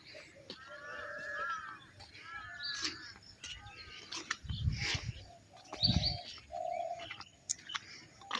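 Village birds in the morning call from several directions: chirps, warbling phrases and soft dove-like coos, some near and some farther off, with a couple of low thuds.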